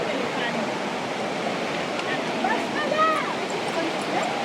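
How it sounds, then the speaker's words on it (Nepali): A rain-swollen stream rushes steadily in a jungle setting, a constant moderate wash of water with a few faint bird calls near the end. "यहाँ हेर्नुलाई मजाले खोला बगिरहेको"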